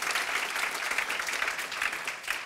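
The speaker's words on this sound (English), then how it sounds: "worth an early round of applause" A forum audience claps together in a dense, steady burst of applause that holds at an even level from start to finish.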